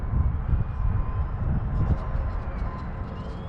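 A faint, steady engine hum drifts overhead from a UMX Voodoo RC model airplane flying at a distance, quiet and even.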